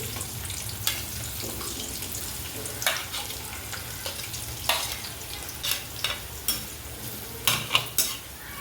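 Onions sizzle in hot oil with cloves and cinnamon spices for a chicken fry, a soft steady crackle broken by sharp scraping stirs of a spoon against the pan.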